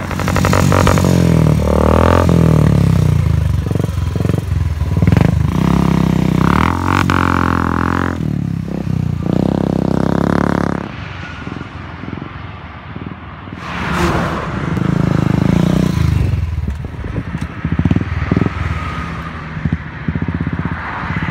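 A Royal Enfield motorcycle engine rumbles loudly up close, revving up and down with a throaty exhaust, dropping back to idle between blips.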